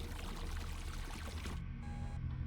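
A toilet flushes in the video game Revenge Of The Colon: a loud rushing, gurgling wash of water that fills the clip, then thins partway through to a lighter swirling drain.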